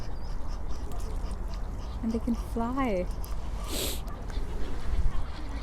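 Birds call on a lake: a few short nasal honks and quacks rise briefly above steady outdoor background noise, moderately close, while people talk nearby.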